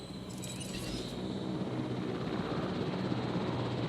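A helicopter in the video game Jurassic World Evolution drones with a steady rotor and engine rumble, constant and fairly close, with no talking over it.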